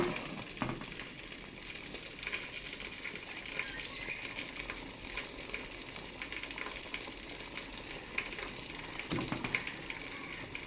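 Cooked biryani rice being gently mixed in a pot, a steady rough stirring and shuffling texture with a few soft knocks, close and continuous, no voices.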